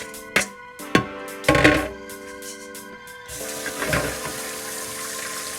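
Food rinsed under a running kitchen tap: a few sharp clatters and splashes at first, then a steady, soft stream of water flowing for several seconds, close and fairly quiet.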